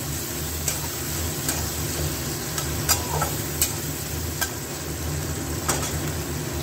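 Onions sizzle steadily in shrimp oil while being stirred, with a spoon tapping and scraping the pan in irregular clicks over the constant close frying hiss.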